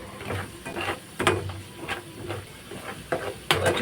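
Spice powder roasting in a pan on low flame for chicken pickle, a soft sizzle with intermittent scraping stirs, close and quiet.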